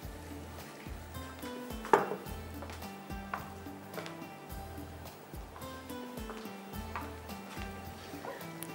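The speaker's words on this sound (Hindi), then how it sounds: "अब मैं चम्मच चलाती रहूँगी ताकि ये पकता रहे" A spoon stirs half a cup of rice in milk in a pot for kheer, making steady, rhythmic scraping pulses about once a second, close and moderately loud, with a louder clink near the start.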